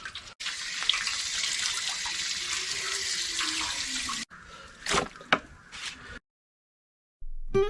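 Tap water running steadily while mutton pieces are washed under it, then broken splashes and drips before the flow stops.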